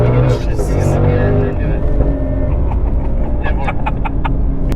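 A 2025 Ford Mustang GTD sports car roars loudly and close by, its engine note steady with harmonic layers, while people talk and exclaim over it throughout.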